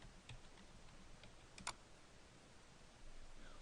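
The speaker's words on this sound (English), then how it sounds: "please type in iGoogle" Keys on a computer keyboard are tapped sparsely and faintly, with a few isolated clicks over a quiet background hiss while a search term is entered.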